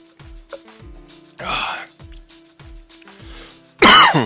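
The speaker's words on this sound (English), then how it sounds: "My apologies for the loudness of that cough" A loud, harsh cough bursts out near the end, following softer throat-clearing and breathy sounds.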